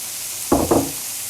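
Seasoned bracken fern (gosari) drops into a hot pan in two quick bursts of sizzling, close and fairly loud against a quiet kitchen background.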